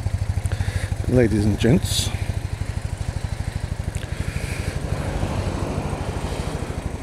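A 1998 BMW R1200C motorcycle idles close by with a steady, even chugging pulse, while someone speaks briefly over the engine.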